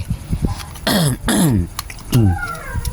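Several harsh coughs in quick succession, close and loud, with a further cough a moment later over faint background noise.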